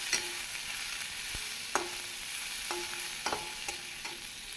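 Chopped cabbage sautés over medium heat in a pan for a Tamil cabbage chutney, giving a steady soft sizzle with occasional sharp clicks and scrapes of stirring, close and with no talking.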